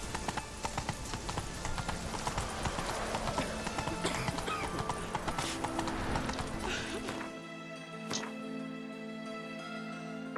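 Hooves of Roach, the horse in The Witcher 3, clip-clop in a fast, even trot, close and loud, before the hoofbeats stop and a soft game music tone lingers alone.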